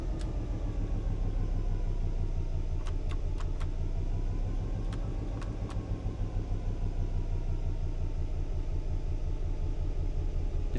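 A DB Class locomotive engine in a train simulator game over-revs in notch 1 on an intermodal cargo line, giving a steady, loud, droning rumble with dense low harmonics throughout and a few brief faint clicks.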